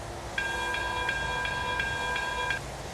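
A steam locomotive bell in a train simulator game rings seven evenly spaced, bright metallic strikes, each with a long ringing tail, over a low steady rumble of the engine, with no talking.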